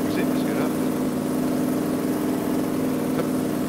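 A heavy vehicle engine drones steadily in the off-road driving game Spintires, a constant low idle-like rumble held through the whole stretch without clear revving.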